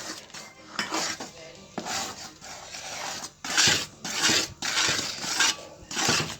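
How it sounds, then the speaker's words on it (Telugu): Hot sugar syrup poured and stirred into a pot of flour for ariselu, with repeated scraping and clinking of a utensil against the metal pot in uneven bursts, close up, no talking. "స్టవ్ బంద్ చేసుకున్నాక పోసుకుంటా కలుపుకోవాలండి"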